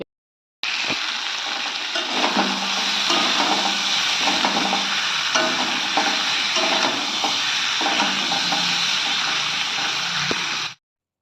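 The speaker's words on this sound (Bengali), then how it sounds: "হালকা হালকা করে একটু নাড়িয়ে মশলাটার সঙ্গে মিশিয়ে নিচ্ছি" Yam curry with spices being stirred and sautéed in a pan, a steady close sizzle with repeated scraping strokes of the spoon throughout, no voices.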